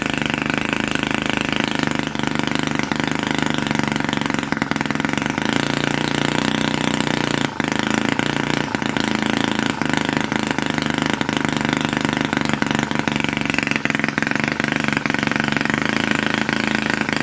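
A 3cc scale model British Enfield stationary gas generator engine runs steadily and loudly for the whole stretch, a dense continuous buzzing drone with no talk over it.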